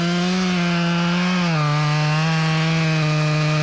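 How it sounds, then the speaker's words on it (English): A chainsaw bores into a tree trunk during felling, its loud, sustained engine whine dipping in pitch as the bar sinks into the wood and bogs under load, steady and close with no talking. "And then I'll bore my saw in there and create the other side of the hinge once I find my other cut."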